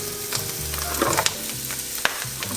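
Onions frying in a pan for a vegan bread gratin, a bright steady sizzle close up with a few soft stirring taps and scrapes, no talking.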